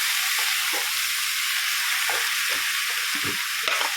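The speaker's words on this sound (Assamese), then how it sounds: "ভালদৰে লৰাই দিওঁ।" Soaked mung dal and white gourd sizzle steadily in a hot pan, broken by a few soft scraping stirs near the end; close and fairly loud, with no voices.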